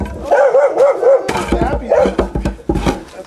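Dog barking in a quick run of several loud, close barks, followed by more scattered barks mixed with people talking nearby.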